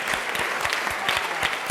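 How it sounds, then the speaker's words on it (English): A class claps for a dessert during a lecture on the physics of cooking, a brisk, close burst of many hands applauding steadily. "That's the clapping of the class."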